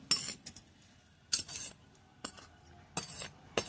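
A spoon mixes chilli pickle masala in a container, making a handful of quiet, irregular metallic clinks and scrapes separated by short silent gaps.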